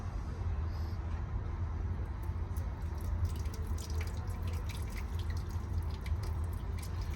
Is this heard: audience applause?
no